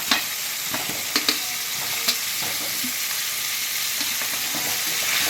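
Fried potatoes stirred into a spice masala cooked down in oil for a chickpea-dal fritter curry, giving a steady close sizzle with scattered scraping knocks of the spoon, no voices.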